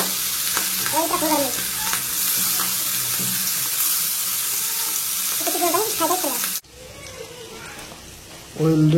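Fish frying in hot oil in a kadai for a fish curry, a steady broadband sizzle throughout, with a voice talking over it and a drop in level near the end.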